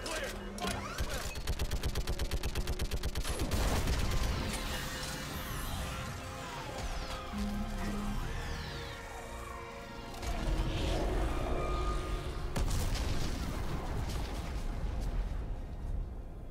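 Gunfire and an orbital strike on a live Reaper in Mass Effect 3, with bursts of rapid shots and heavy blasts and rumbles rising and falling across the scene, loud and close, with voices speaking between.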